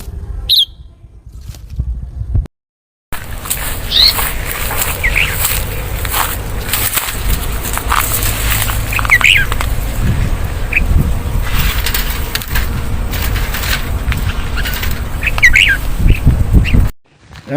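A caged red-whiskered bulbul, a large wild-caught bird, gives scattered bright chirps and whistled phrases over a constant noisy outdoor background, with brief quiet gaps at the start and end.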